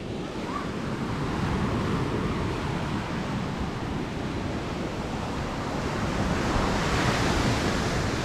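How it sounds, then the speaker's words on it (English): Ocean waves at high tide on a windy day, a steady broadband surf roar with wind buffeting the microphone, continuous and fairly loud throughout with no voices. "It's kind of windy today, so maybe some waves."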